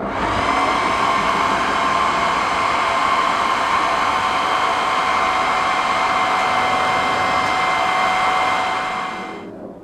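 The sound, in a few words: hair dryer drying paint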